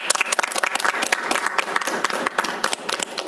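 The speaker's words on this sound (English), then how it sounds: "give another round of applause" Audience applause closing a seminar talk, dense, close hand clapping from a room full of people that carries on steadily throughout.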